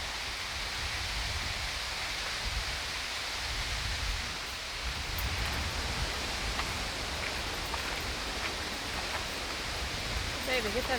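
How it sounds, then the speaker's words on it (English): Waterfall along a highway route roars as steady broadband rushing water, dense and continuous throughout, with a faint voice briefly audible near the end. "That's the waterfall there."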